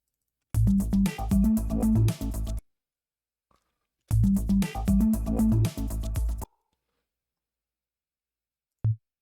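A rhythmic synth line bouncing up and down an octave, programmed in Ableton 12 for a psybreaks track, plays in two separate bursts of busy, pulsing notes with silence between them and a lone short note at the end.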